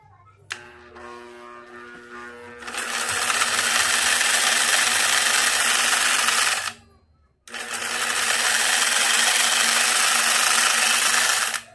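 A chainsaw attachment fitted to an angle grinder is switched on and whirs at a loud, high, steady whine for about four seconds, cuts off briefly, then starts again and runs on, close up, with a few small clicks beforehand.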